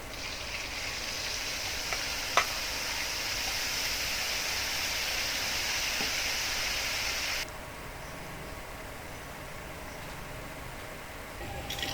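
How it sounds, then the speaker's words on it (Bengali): Shredded potatoes fry in hot oil with a dense, constant hiss that drops noticeably in level partway through, with one sharp tap early on. "আবারও ওই তেলের মধ্যে বাকি আলুগুলো দিয়ে দেব।"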